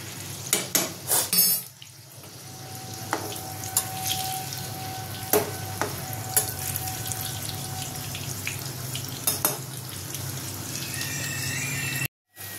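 A stuffed vegetable paratha is flipped in a frying pan: sharp spatula clatters against the pan, then a steady sizzle with intermittent scrapes and taps.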